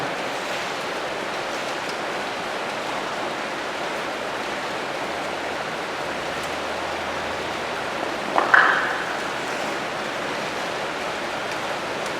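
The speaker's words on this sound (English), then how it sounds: "Hear that rain coming down." Steady, dense rain pours down continuously, a broad hiss with one brief louder knock partway through.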